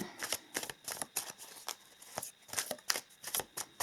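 Tarot cards are shuffled by hand in quick, irregular riffling bursts, each a crisp papery snap, repeating steadily at close range.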